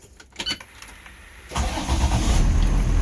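A school bus engine cranks after some faint clicks, then catches and settles into a loud, steady rumbling idle close by.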